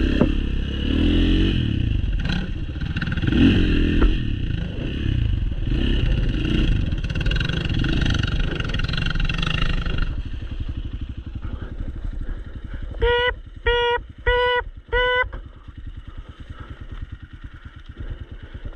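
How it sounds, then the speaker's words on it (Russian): A Progasi Race 300 Air motorcycle engine struggles on a race track, droning loudly and roughly before faltering into a weaker uneven putter with a few short bursts of sound near the end. "Нет, это не шутки про ее задницу, это просто мотоцикл сдает."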